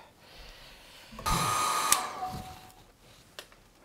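A hair dryer switches on and blows over a watercolor painting of boats for about a second, a steady whirring whine that cuts off abruptly, with quiet room sound before and after.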